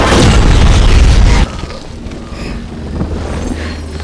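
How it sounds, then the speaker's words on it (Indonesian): A rifle explodes in a single loud boom at the start, then cuts off abruptly into a quieter, rumbling background with faint scattered noises. "karena senapan yang digenggamnya meledak"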